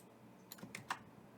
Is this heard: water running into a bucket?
no